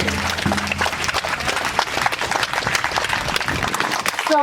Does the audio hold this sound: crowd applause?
yes